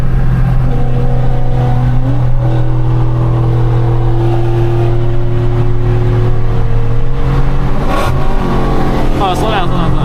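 Dodge Scat Pack V8 revs and accelerates during a street race, a loud droning engine note climbing in pitch through a couple of gears, heard from inside the car with voices talking over it.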